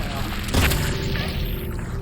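A single heavy gunshot booms loud and close in the Silent Hill 2 Remake, its blast spreading into a lingering rumble over dense background game noise.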